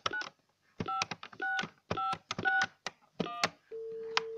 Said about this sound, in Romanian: acum vom da un telefon